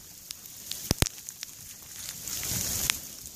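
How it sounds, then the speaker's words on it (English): Sleet and hard ice pellets fall outdoors in cold weather on a muskrat trapping outing, making a steady crackling patter with a few sharp, loud ticks of pellets striking close by. "Now it's turning into this hard ice pellets that are pelting us in the face out here."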